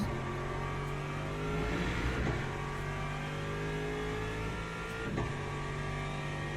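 GT race car engine in a racing video game, droning steadily with layered harmonic whine and small swells as the throttle is pushed a little too hard, moderately loud and continuous with no talking.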